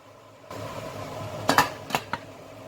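A lid is set onto a pot of boiling water while steaming chicken-filled buns: a few sharp metallic clinks and clatters over a low steady hiss, close and fairly loud, with no talking.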